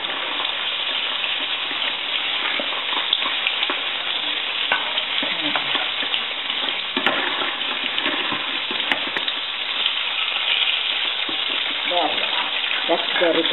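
Sole fish deep fries in hot oil, giving a loud, continuous, dense bubbling sizzle close up that holds steady throughout, with scattered crackles and only a faint trace of a voice in the background.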